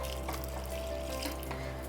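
A continuous, gentle rush of boiling water being poured into a pressure cooker, steady and close, with a faint low hum underneath and no talking.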